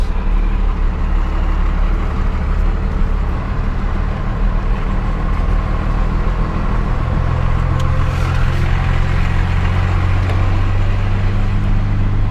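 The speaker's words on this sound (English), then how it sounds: "Just rolling around in 4-wheel drive is all." Loud, steady engine drone of a 1996 12-valve Cummins diesel truck rolling along in four-wheel drive, a deep continuous rumble with a shift in pitch partway through and no talking.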